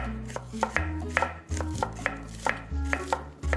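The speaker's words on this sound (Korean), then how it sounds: "이렇게 도마에 칼 부딪히는 소리 하면은 어머니 뭐 하시지?" A knife thinly slices onion on a wooden cutting board, a steady run of about a dozen crisp, close chopping taps in an even rhythm.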